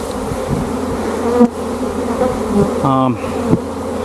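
Honey bees buzz densely around an opened hive on a silvopasture farm, a close, continuous droning hum with individual bees swelling louder as they pass near.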